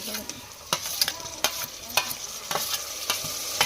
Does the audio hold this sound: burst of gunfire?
no